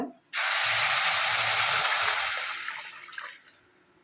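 Tamarind water and tomato poured into a hot pan of roasted cumin and pepper for pepper rasam, bursting into a loud sudden hiss that slowly fades over a few seconds.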